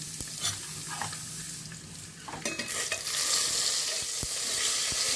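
Cinnamon, cloves, fennel and bay leaf crackle in hot oil for a Tamil chana dal vegetable kootu, a close bright sizzle that swells louder and denser partway through, with a few sharp pops and scrapes and no voices.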